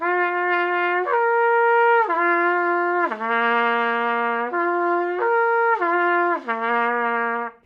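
A brassy buzzing tone from lips on a trombone mouthpiece, steady and continuous, stepping between several pitches up and down in held notes, loud and close with no talking.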